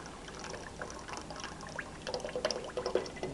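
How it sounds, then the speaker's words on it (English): Sodium hydroxide solution mixed with pureed carrot being poured and slowly stirred into soap batter, giving soft, close wet trickling and sloshing that grows a little louder toward the end, with no voices. "I'm going to add my sodium hydroxide solution with pureed carrot. And I'm slowly stirring."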